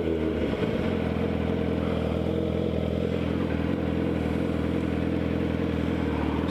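A motorcycle engine runs steadily and loudly up close as the rider applies throttle and releases the clutch to pull away from a stop, a continuous rumbling drone throughout.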